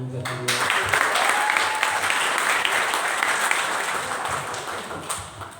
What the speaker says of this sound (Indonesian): Beri tepuk tangan buat beliau.